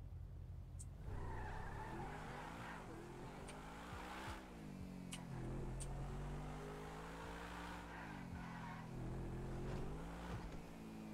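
An Adder sports car in the FiveM game revs and accelerates steadily, engine pitch climbing and dropping across repeated gear changes, with brief tire squeals and a constant loud drone.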